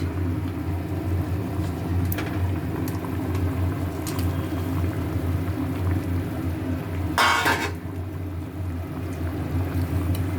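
Half-cooked vegetables, already fried, simmer in a pot with a low rumbling bubble and hiss, steady and fairly loud, broken by a single brief clatter near the end.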